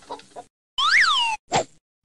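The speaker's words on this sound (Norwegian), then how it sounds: "Høne!" A chicken in the Norwegian PC game Vazelina Hjulkalender (2000) gives a single loud, swooping electronic cluck, then a brief thump, with soft murmurs at the start.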